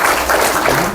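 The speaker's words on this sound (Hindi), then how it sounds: "वेरी गुड, ताली हो जाओ।" A classroom of students clapping for a classmate, a short burst of rhythmic hand claps, fairly loud and close, with a faint voice briefly underneath.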